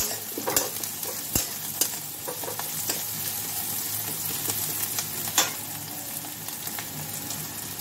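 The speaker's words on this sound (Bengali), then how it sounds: "পেঁয়াজগুলো ভাজা ভাজা হয়ে গেছে" Onions fry steadily in a pan, a continuous hissing sizzle broken by sharp scraping clicks as they are stirred now and then, close and fairly loud with no talking.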